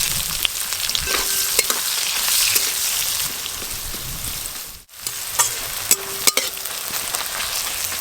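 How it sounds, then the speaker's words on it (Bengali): Chopped onions fry in hot oil in a pan tempered with nigella seeds, giving a steady loud sizzle with occasional clicks of stirring and no voices. "পেঁয়াজগুলো প্রথমে কিন্তু একটু ভালো করে ভাজা ভাজা করতে হবে।"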